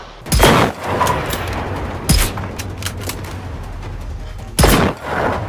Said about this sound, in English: So we're going to use our hunting rifle.